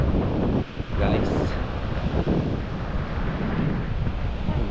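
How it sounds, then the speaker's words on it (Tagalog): Strong wind buffeting the microphone over waves on a beach at Bucana, a loud continuous roar with a brief dip early on, with a voice speaking at times. "Hirap, may hangin na, may alon pa."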